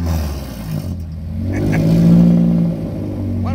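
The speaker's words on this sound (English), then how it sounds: "How's that for a four-cylinder engine, huh?" A 2023 Mazda MX-5 four-cylinder race car engine close by at Watkins Glen paddock, idling with a rough rumble before revving up to a loud, sustained roar and settling back down.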